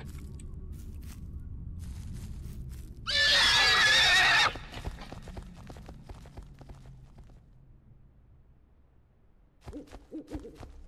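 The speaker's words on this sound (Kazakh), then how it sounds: "Ат!" In the horror video game Silent Breath, a horse gives one shrill, strained neigh lasting over a second, set against a quiet, crackly ambient backdrop with faint scattered clicks and a brief low tone near the end.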